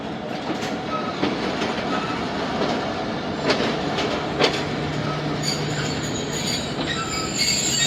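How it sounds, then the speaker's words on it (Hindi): The Jaffar Express rolls into Jahangira railway station, its wheels clicking and squealing on the rails at moderate loudness, with a few sharp metallic clanks. "जहांगीरा रेलवे स्टेशन पहुंची है ट्रेन।"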